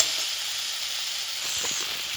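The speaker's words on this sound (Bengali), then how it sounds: "এটা বেশিক্ষণ নয়, 5 থেকে 10 মিনিট মতন ভাজবো।" Sago halwa fries in a pan, giving a quiet, even sizzling hiss with faint crackles, steady for the whole stretch.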